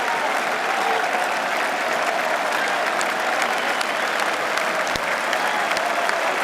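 A large cricket crowd at Edgbaston roars with sustained, dense applause as England win the 2005 Test by two runs against Australia, a steady, loud wash of thousands of clapping hands with a few sharper individual claps standing out.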